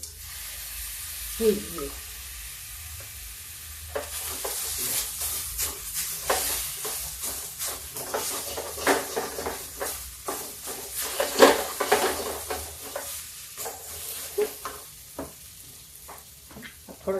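Grated carrot and a pinch of asafoetida sizzle and crackle in a hot pan, a steady frying hiss with stirring clatter building after the first few seconds; a voice speaks briefly at the start.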